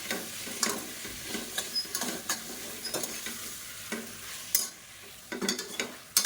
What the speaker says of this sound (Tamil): இப்போ மட்டன் நல்லா வதக்கியாச்சு